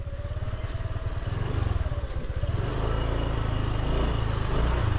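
A small motorcycle engine putters steadily nearby along a narrow path, a continuous throbbing drone that rises slightly as it keeps moving.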